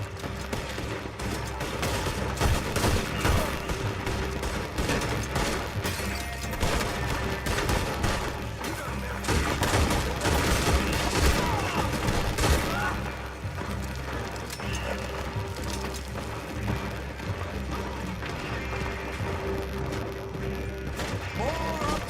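Sustained gunfight in Red Dead Redemption 2, rapid overlapping rifle and pistol shots crackling nonstop with impacts and crashes, loud and near, shouted voices mixed in.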